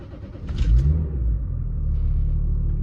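Range Rover P38 with the 2.5 litre turbocharged diesel cranking and catching, settling into a deep, steady rumbling idle close by.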